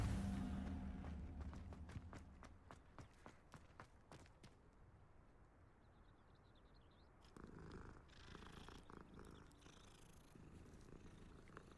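A cat purring in the video game Hogwarts Legacy, a soft steady low rumble that is clearest at the start and then sinks into a quiet ambient bed with faint footsteps.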